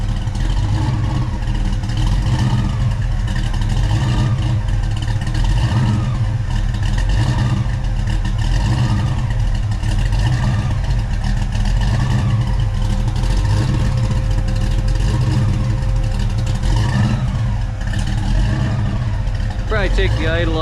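A Ford Foxbody V8 running steadily just after an ATM carburetor install, a loud, continuous idle with a slight rhythmic surge throughout, close by in a garage.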